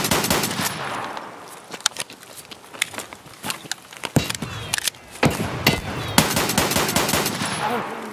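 Gunfire in the video game Escape From Tarkov, with bursts of sharp shots and automatic fire spread across the clip, some shots loud and close, others more scattered, with faint footstep-like noises between them.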